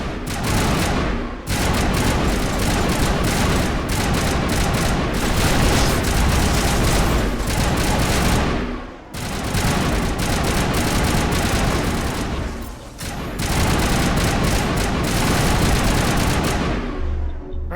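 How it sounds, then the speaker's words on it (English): Enemy gunfire rattles continuously in Mass Effect at the Prothean dig site. Long, loud bursts of weapon fire and impacts run for several seconds at a time, separated by brief lulls. "Will you please stop shooting at me?"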